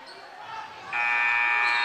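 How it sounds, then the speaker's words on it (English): A buzzer ends the third quarter of a high school boys basketball game, a loud steady electronic tone that cuts in sharply after a moment of gym crowd noise and holds to the end. "And the buzzer goes."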